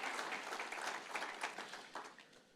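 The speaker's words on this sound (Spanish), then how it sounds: "denle el aplauso al Señor" Church congregation clapping and applauding during a Spanish-language service, a brief, fairly faint wash of claps tapering off toward the end.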